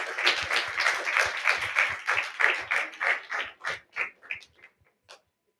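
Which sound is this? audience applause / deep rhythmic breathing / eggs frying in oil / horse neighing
audience applause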